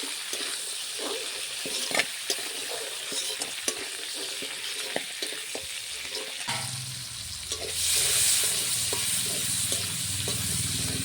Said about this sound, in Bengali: তারপর কাঁকড়াটাও ভালো করে ভেজে নিতে হবে।